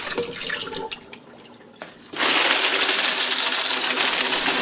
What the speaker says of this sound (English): It's critical that you run 4 or 5 gallons of water through the system to get it all flushed out.